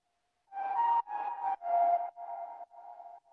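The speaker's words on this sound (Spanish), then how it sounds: "Esta flauta." Sampled flute line in a reggaeton beat, heard alone as five short sustained breathy notes in a stepwise phrase, moderately loud and clear.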